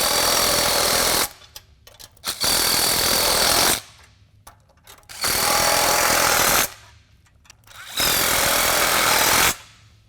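A power impact tool tightens bolts on the wheel housing of a Tilmor Power Ox during assembly, three loud, sustained rattling hammering runs of a second or more each, separated by short quieter gaps.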